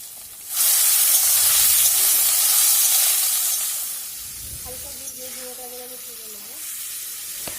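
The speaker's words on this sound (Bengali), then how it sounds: "ঝিঙেগুলো দিয়ে বেশ ভালো করে যেয়ে একটু ভেজে নেব" Ridge gourd slices sizzle and hiss loudly in hot mustard oil with nigella seeds, a steady broadband frying noise that eases midway as a brief tonal scrape of utensil or pan sounds near the end.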